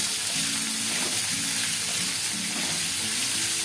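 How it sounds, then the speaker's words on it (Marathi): Ivy gourd (tondli) frying in oil in a pan, a steady dense sizzle with a faint low hum beneath, close and continuous with no talking. "पहिल्यांदा ही तोंडली तेलावर व्यवस्थित फ्राय करून शिजवून घेणार आहोत।"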